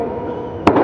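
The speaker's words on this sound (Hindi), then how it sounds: "पटाखा ना फोड़े कोई भी" At a crowded evening political rally, one sharp firecracker bang cracks out near the end of a low, steady crowd rumble.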